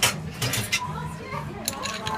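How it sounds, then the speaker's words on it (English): An old fashioned cocktail stirred with ice, with a Pinot Noir reduction added, gives light, quick clinks and rattles of ice against glass in a steady rhythm, close and fairly soft, with faint voices in the background. "Just want to give this a nice little stir down."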